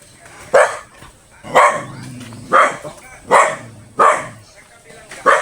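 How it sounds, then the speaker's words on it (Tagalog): A dog barks six times at a steady, evenly spaced rhythm, loud and close, with faint background noise between barks. "Natakot tayo sa aso eh."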